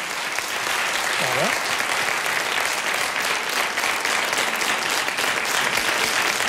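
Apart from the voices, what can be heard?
studio audience applause for the ONCE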